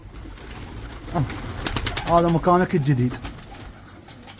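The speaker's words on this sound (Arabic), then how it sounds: "هاي شباب نزلت الطيور اعطيتها اكل" Pigeons coo in a few low, throaty bursts close by, while someone speaks briefly over them.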